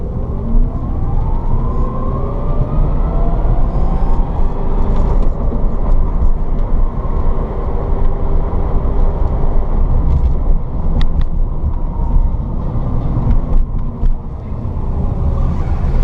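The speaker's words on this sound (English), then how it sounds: "Clutch in, second gear, clutch out." A 1967 VW Beetle converted to electric drive rolls along with a continuous loud whir and road rumble, and the motor tone shifts briefly as the clutch goes in and second gear is selected.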